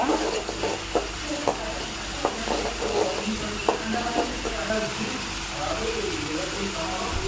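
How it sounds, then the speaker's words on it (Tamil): Liver gravy with rock salt, ginger and garlic sautés in a pan with a soft sizzle and repeated scraping clicks of stirring, partly under a person talking. "கொஞ்சம் கல்லுப்பு நல்லா வதக்குங்க."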